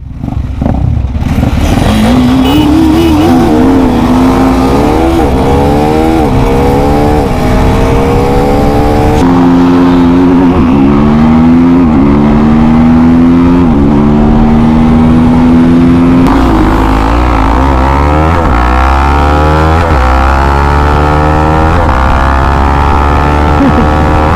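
Motorcycle on a track, likely one of a Duke 390, Apache RTR 310 or Pulsar NS400Z, revving hard through several rising gear pulls with clear shifts between them, loud and close throughout, no talk.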